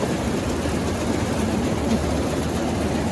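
A combine harvester's engine drones steadily and loudly while reaping paddy in the field, a constant heavy mechanical rumble with no talk.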